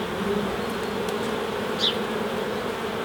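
Honey bees hum in a dense, continuous drone during an open hive inspection, close and steady throughout, with a single bee zipping briefly past near the middle.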